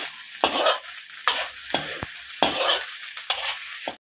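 A ground garlic, ginger, cumin and chili mixture sizzles and fries in a pan while being stirred, with several distinct scraping strokes breaking up a steady close crackle.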